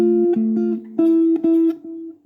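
Slow, deliberate guitar notes picked one at a time for an opening bar, each ringing out with clear sustain, a few brighter attacks near the middle, gently fading at the end; close and alone with no voices.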